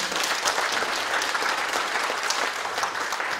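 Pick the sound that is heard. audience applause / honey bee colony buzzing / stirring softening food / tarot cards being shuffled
audience applause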